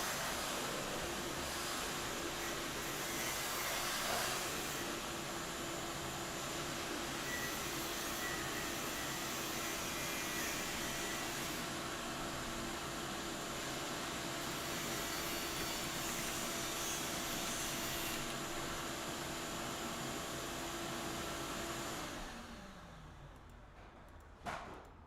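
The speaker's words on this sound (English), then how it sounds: "Therapeutic vacuum noises." Vacuum cleaner running steadily at close range with a loud, even whooshing roar that holds for over twenty seconds, then winds down and cuts off near the end.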